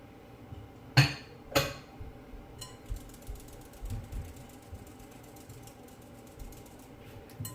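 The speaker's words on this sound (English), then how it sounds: "I'm just going to sieve it. Take out any lump." Refined cornmeal being shaken through a metal sieve to remove lumps, with two sharp knocks followed by a fast, close, ratcheting rattle of scraping mesh that runs steadily to the end.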